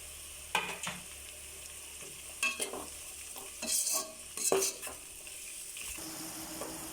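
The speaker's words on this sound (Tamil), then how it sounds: "இப்போது தக்காளியும் வெங்காயமும் நல்லா வதங்கிடுச்சு." Onions and tomatoes frying in a pan for prawn biryani, with a soft sizzle under intermittent scraping and clinking stir strokes from a utensil against the pan, close up and with no voices.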